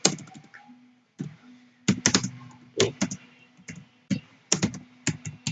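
Keys on a computer keyboard clack close by in short irregular clusters of taps with brief pauses between bursts, with no speech over them.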